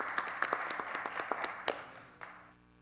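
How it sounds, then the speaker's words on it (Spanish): A handful of individual claps ring out at a Social Security Week conference for a doctor, sparse and uneven, thinning out and fading to quiet within a few seconds. "Un aplauso también para el doctor González Ruiz"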